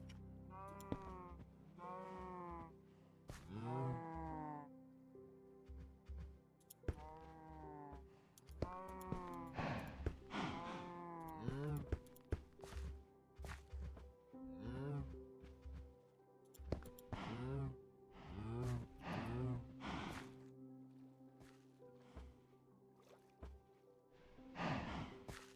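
Minecraft cows in a pen moo over and over in loud, close, drawn-out calls that overlap one another, with no talking.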